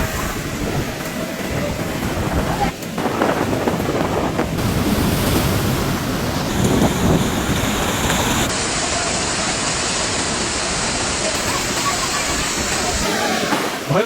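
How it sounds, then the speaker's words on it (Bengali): Large sea waves roaring and surging on the coast during Cyclone Remal, a continuous loud wash of surf mixed with heavy wind buffeting the microphone, steady throughout with no speech. "গর্জন তুলে হুঙ্কার দিচ্ছে বড় বড় ঢেউ, জানান দিচ্ছে রেমালের তেজ।"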